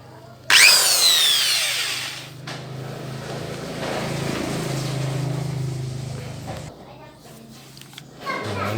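A power drill with an HSS bit starts abruptly with a high whine, then grinds steadily into metal, enlarging a hole in a PCP airgun part, for several seconds before winding down, close and loud.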